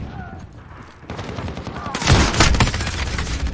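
Sniper fire in Modern Warfare online play, with a burst of loud, close gunshots and rattling gunfire about halfway through, plus background game noise and faint chatter.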